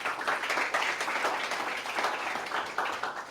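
Audience at a startup pitch competition applauding an investor being introduced, a sustained burst of many hands clapping at moderate loudness, filling the room without speech.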